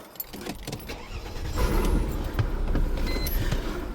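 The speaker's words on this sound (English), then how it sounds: "Start up the car." A Mercedes W208 car with a faint click and rustle, then the engine cranks and catches at about the midpoint, settling into a close, steady idle rumble.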